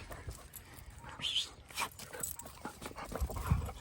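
Pig hunting dogs pant and whimper close by after a boar hunt, quick breathy panting with a few soft yips, and a voice in the background.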